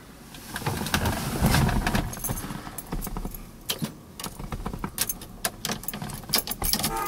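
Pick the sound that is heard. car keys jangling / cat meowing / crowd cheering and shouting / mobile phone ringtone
car keys jangling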